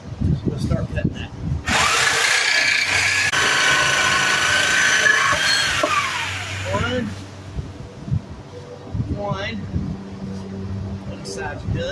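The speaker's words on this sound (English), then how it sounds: "Use that for my Sawzall. So let's start cutting that." A Sawzall reciprocating saw cuts beneath a 2011 Cadillac CTS RWD during a center carrier bearing support bracket install, buzzing loudly and steadily for about five seconds before winding down. Speech comes before and after the cut.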